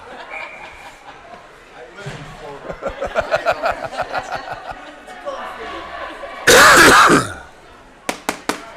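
A few harsh coughs and throat-clearing sounds break out amid laughing and talking, with a loud burst near the end.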